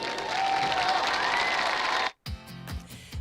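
A crowd at a high school football game, Springdale at Har-Ber, applauds and cheers loudly for the cheer squads for about two seconds before the sound cuts off abruptly.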